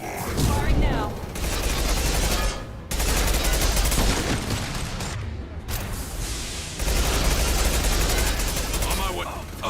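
Sustained automatic weapon fire from a firefight in the video game Mass Effect 2, loud and dense with bursts broken by brief pauses, carrying on almost continuously under the game's battle noise.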